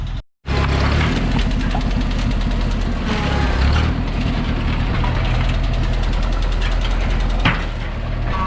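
Tractor engine running steadily at a desert car hoard, a continuous low mechanical rumble with a knocking texture, close and fairly loud after a brief cut at the start, with no talk over it.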